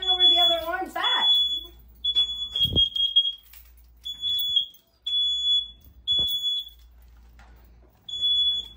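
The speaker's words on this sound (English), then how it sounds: "Why are two alarms going off?" Two smoke alarms shrill in loud, repeated high beeps inside a home, broken by short gaps, while people shout and talk over them.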